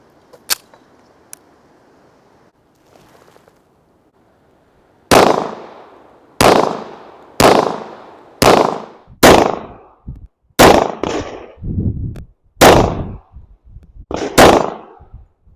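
Rock Island Armory Tac Ultra FS 1911 pistol in .45 ACP fires about ten loud, sharp shots, each with a brief decaying tail, spaced roughly a second apart after a quiet opening with faint clicks.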